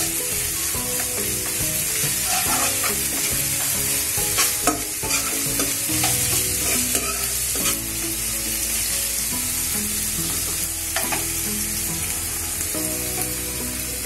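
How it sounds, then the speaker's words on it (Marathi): Ginger garlic paste sautéing in a pan for a Maharashtrian peanut-potato rassa bhaji, with a steady broad sizzle and scraping stir strokes throughout, over faint tonal background music. "त्यामध्ये आलं लसणाची पेस्ट घातली 1 चमचा।"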